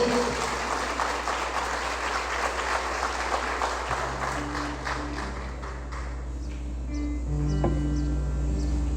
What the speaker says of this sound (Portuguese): Vamos aplaudir a poderosa palavra de Deus. Aplaude com força, com vigor.